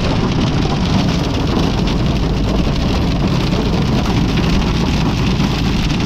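Heavy rain with hail pours down steadily outside a home, a dense, continuous hiss and patter close by with no pauses and no voices.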